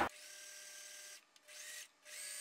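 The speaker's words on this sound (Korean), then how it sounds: "재봉틀 땀수 제일 크게 하셔서 한 줄만 박아서" A steady, quiet sewing machine whir runs in bursts at its longest stitch length, stopping briefly twice before starting again, stitching a shirt sleeve at close range.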